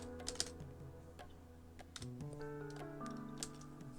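Computer keyboard keys are tapped in quick soft clusters while chatting in Roblox Adopt Me, faint clicks over quiet game music with shifting tones.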